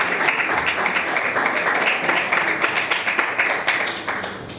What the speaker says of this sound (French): Edith Bocard, on applaudit pour elle, s'il vous plaît.